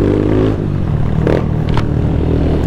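A loud, close motorcycle engine with an aftermarket exhaust, one of several modified Brazilian bikes such as a 2025 Honda Titan 160 or a tuned Sahara 300, rumbles low and revs briefly in short bursts.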